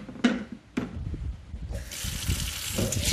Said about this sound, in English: let me rinse my corn. As you can see, I am at the sink